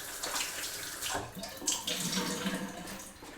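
Water running from a kitchen tap while hands are wetted to press out a pie crust, with a close, continuous splashing and gurgling stream that shifts in texture as the hands move under it.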